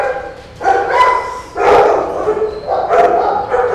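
Big dogs barking at a kennel, a cane corso among them, in three loud, close bursts of deep barks separated by brief pauses.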